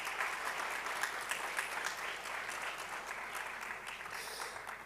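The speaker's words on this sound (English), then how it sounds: "A round of applause for her." Continuous applause from an audience at a university student event honouring a speaker, fairly distant and even, a dense wash of clapping with no talking.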